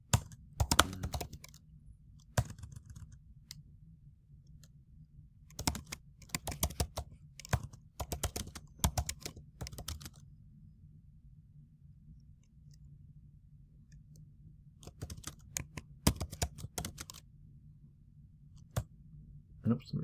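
Bursts of typing on a computer keyboard, quick clustered key clicks separated by quiet pauses, close and fairly crisp.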